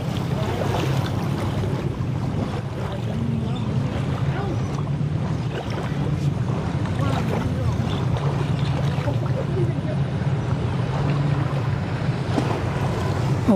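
Jet ski riding across open water in Kamphaeng Phet, with a steady engine drone mixed with splashing and wind rush, continuous and fairly close throughout, with voices faintly present beneath it.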